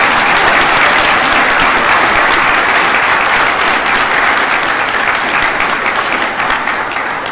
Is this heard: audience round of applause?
yes